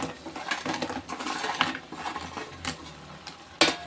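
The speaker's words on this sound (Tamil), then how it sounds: "இப்போ வந்து நம்ம வறுத்து வச்சுருக்கிற இந்த இட்லியை போட்டுருவோம்" Fried idli pieces tossed and stirred into a tomato-onion gravy in a pan for masala idli, with irregular metallic clinks and scrapes of the spatula and a few sharper knocks near the end.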